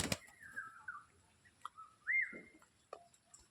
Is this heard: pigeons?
yes